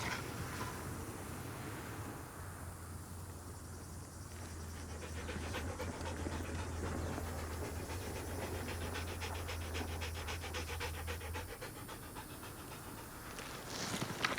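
Military working dog Lizzie panting steadily at close range in a continuous rhythmic stream, with faint low background noise and occasional soft movement, no talking.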